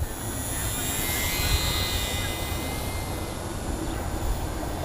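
A UMX Radian RC fixed-wing plane flying at constant throttle fills the sound with a steady electric motor and propeller whine over airy wind rush, holding an even loudness throughout.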